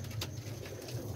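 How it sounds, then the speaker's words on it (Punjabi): Pigeons of a Qalandri breed kept in a loft coo softly in low, rolling murmurs that run steadily through the moment, close by and with no talk over them. "ਸਰ ਚੈੱਕ ਕਰੋ ਜ਼ਰਾ ਕਬੂਤਰ ਇਹ ਦੇਖੋ"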